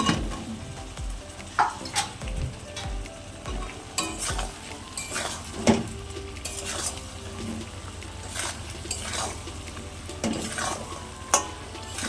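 Red masala and fried potatoes being sautéed in a pan, with a low sizzle under repeated scraping and clacking of a spatula against metal in irregular bursts, close by and with no talk.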